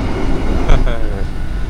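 An Indonesian KRL commuter train rumbles steadily past at close range, with a brief squeal of wheels and a continuous low roar throughout.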